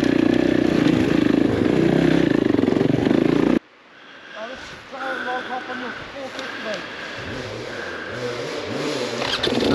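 A Kawasaki KX motocross bike runs slowly in first gear with the clutch out, loud and close: a heavy roaring burst at first, then a lower, steadier throbbing engine note.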